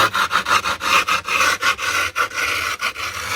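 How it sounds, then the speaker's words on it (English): Metal screwdriver held at an angle and scraped along the edge of a skateboard deck during grip tape replacement, giving a close series of quick, rhythmic rasping strokes with brief gaps between them. "I'm gonna take the screwdriver and put it right on the edge of the board at like a 45."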